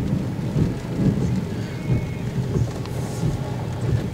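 A thunderstorm in Columbus, heard from inside a moving vehicle: steady, dense rain drums on the surface while low thunder rumbles continuously beneath it, with no talking.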